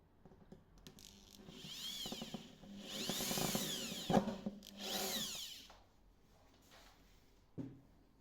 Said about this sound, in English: Now he's inserting the screw, tightening it with the drill,